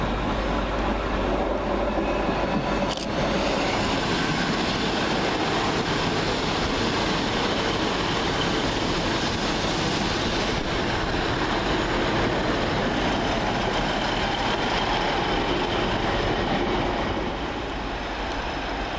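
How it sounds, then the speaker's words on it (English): Northern Rail Class 150 diesel multiple units run through Deansgate station, a loud continuous engine and wheel rumble held for nearly twenty seconds with a brief sharp click early on, easing slightly at the end. "Going in the opposite direction will be 150120 and 150138, working the 1030 Northern Rail service from Southport to Alderley Edge."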